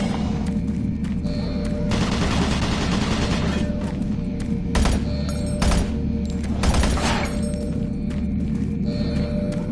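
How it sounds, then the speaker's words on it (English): Automated turret guns in DOOM 3 fire repeated rapid bursts over a constant low rumble, the loud staccato volleys clustering in the middle of the stretch. "Warning, automated turret guns online."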